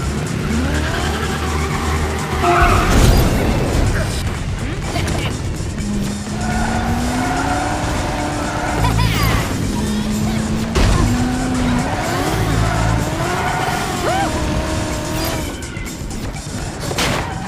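Karts revving and tires squealing as a race gets underway in ModNation Racers, with loud engine whine, skids and shifting motor pitch running steadily throughout, backed by game music.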